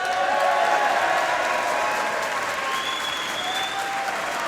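A wrestling crowd in Newcastle applauds, a dense sustained wave of clapping from a large audience at a live show, filling the room evenly and tapering slightly toward the end.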